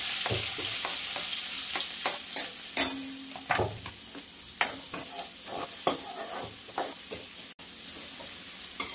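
Finely chopped onion fries with cumin seeds in a little oil, making a close, steady sizzle with repeated scraping and clinking as a spoon stirs the pan, with no voices.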